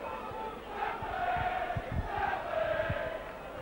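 St Helens rugby league supporters chant together in a large stadium crowd during a 1996 match against Leeds, a sustained mass of voices rising and falling with a few rhythmic thumps underneath.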